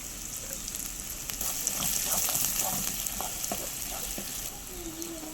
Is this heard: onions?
yes